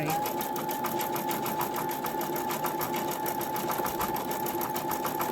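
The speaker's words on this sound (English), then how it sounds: "I'll just let it get stitching for a little bit" A Brother embroidery machine stitches steadily, its needle hammering in a fast, even rhythm with a constant motor whine, close and loud with no talking.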